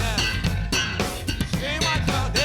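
Slap-style bass guitar played with slide technique in a funk groove, a continuous full-band texture with sliding, gliding notes and steady rhythmic pulses throughout.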